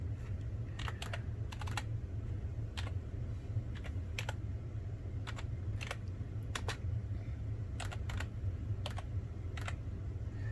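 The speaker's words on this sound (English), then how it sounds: "So I typed Hurricane Knob in there" Keystrokes on a computer keyboard typing a place name into an offline map search, sounding as short clusters of close, crisp taps with pauses between bursts over a steady low hum.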